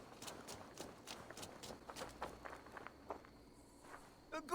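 Horse hooves in the video game Assassin's Creed Valhalla: a faint, uneven series of soft clip-clop steps over quiet ambience with light insect chirping, followed by a louder sound at the end.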